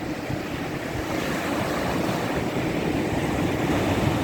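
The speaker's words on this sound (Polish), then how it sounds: "spójrzcie jak blisko tutaj fala przybiła." Steady roar of rough Baltic Sea surf washing onto a sandy beach, broad and continuous with wind rumble over it, no voices.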